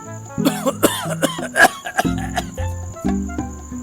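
A voice coughs in a few quick harsh bursts, close up, followed by throat-clearing sounds, against a thin steady insect-like chirp.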